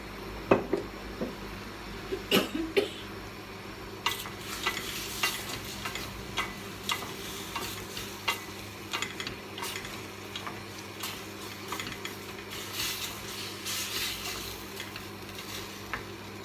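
Seafood stir-fried in a pan with bottled oyster sauce and Maggi seasoning, a constant sizzle under repeated clinks and scrapes of a utensil against the pan, close and steady with no talk.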